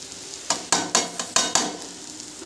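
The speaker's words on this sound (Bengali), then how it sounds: "মাছটা দিয়ে দিলাম, এবার নাড়া দিলাম" Fish hits a pan of kolmi greens with a soft sizzle, followed by about seven rhythmic scraping strokes of stirring, close and moderately loud.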